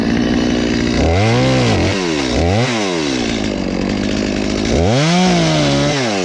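A chainsaw cutting firewood: a loud, close engine drone that rises and falls in several sharp revving swells as the blade bites into the wood, with no talking.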